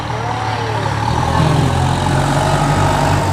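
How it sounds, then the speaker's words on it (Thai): A steady engine hum drones close by, a constant low rumble with a faint higher whine riding on top. "นี่เสียงรถเนาะ"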